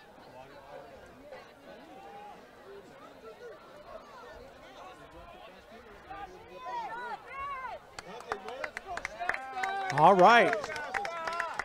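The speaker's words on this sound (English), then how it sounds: "Get the little crowd noise in here, a little chin music going" A high school football crowd at the Shasta Wolves versus Pleasant Valley Vikings game murmurs beneath a commentator's voice, swelling into louder cheers and claps near the end.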